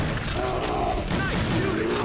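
Gunfire from the hunting video game Cabela's Dangerous Hunts 2011, a few loud booming shots over a dense, busy game soundscape, with faint background voices.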